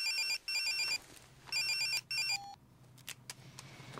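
A phone rings in two bursts of rapid electronic trilling separated by a pause, followed by a short beep and some faint clicks.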